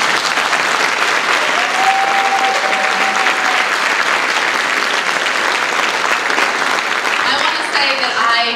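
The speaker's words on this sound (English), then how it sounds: "can we just give a quick round of applause to the political club?" An audience at a political debate applauds steadily for the whole stretch, a dense and loud wash of clapping without pauses, with a few faint voices near the end.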